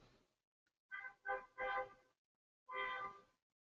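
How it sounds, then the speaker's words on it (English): Car horns honk from across the street, faint and distant: a few short toots in quick succession, then one longer blast after a pause. "There's some honking across the street."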